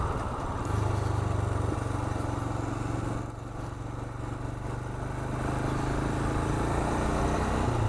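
A 2021 Royal Enfield Himalayan motorcycle engine running, heard as a close, steady low throb. The engine rises in pitch, dips briefly around the middle as if shifting gear, then climbs again.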